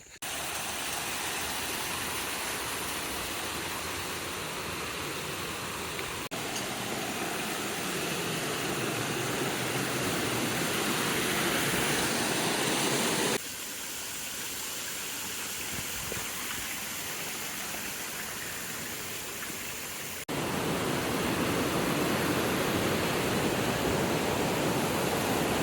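Cumberland River near Cumberland Falls State Park, a steady, loud broadband rush of flowing water that continues unbroken, with slight shifts in level between sections and no voices.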